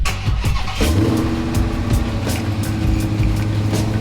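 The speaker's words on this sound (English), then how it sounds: "I accidentally started my car in my pocket." A Dodge Charger engine cranks and fires after a remote key-fob start, catching at once and settling into a steady idle rumble close by, with scattered clicks and knocks over it.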